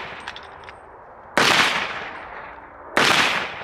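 Two sharp, loud gunshots ring out outdoors about a second and a half apart, each with a bright crack followed by a long decaying echo.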